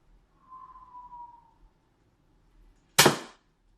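A Mauserfire dart blaster fires a single shot at close range during indoor target practice, a sharp, loud pop preceded by a faint whistling whine.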